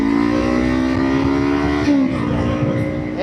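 Kawasaki Ninja 500 motorcycle riding along, a steady engine drone with harmonic whine held throughout, a brief dip and shift near the middle, then a rise at the end, close and loud without talk.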